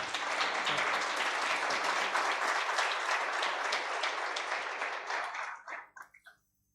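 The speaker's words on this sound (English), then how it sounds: "I want some claps now, please" An audience at a hackathon project presentation claps in sustained, dense applause that holds steady, then thins into a few scattered final claps before falling silent.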